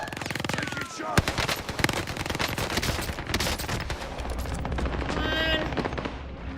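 Rapid automatic gunfire rattles in bursts during a Call of Duty Warzone match on the Caldera map, over constant game noise, with a voice heard faintly alongside.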